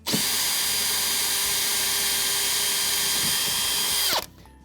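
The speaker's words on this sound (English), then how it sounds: "So I'm using a 6mm drill bit. I'll drill through the pilot hole." A power drill with a 6mm bit bores a clearance hole through the pilot hole in a corner bathroom vanity unit door: a steady, loud, high whine for about four seconds that stops abruptly.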